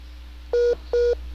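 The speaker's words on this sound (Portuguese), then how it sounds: "Tem alguém ligando? Aí atrapalhou a ligação de Adriana Reis." Two short telephone keypad dialing tones beep in quick succession over a phone line during a live call, each lasting about a fifth of a second, clear against a quiet hum.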